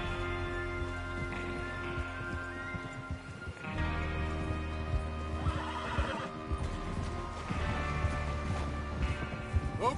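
Horses in the video game Red Dead Redemption 2 neigh and whinny loudly several times over galloping hoofbeats and clip-clop, with a brief crash midway.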